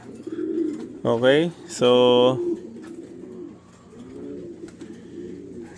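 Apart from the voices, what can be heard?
pigeons cooing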